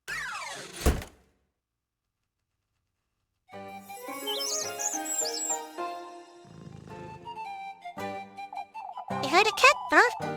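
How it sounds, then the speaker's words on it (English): Bird calls from a video game, a catbird among them, chirp in short bursts over tinkling musical tones, after a sharp hit and a few seconds of silence. "I heard a cat bird."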